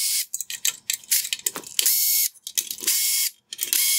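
Torx T20 screws being backed out of a Mercedes-Benz C-Class LED headlight, a string of close, dry ratcheting clicks and gritty turns in short bursts with brief pauses between.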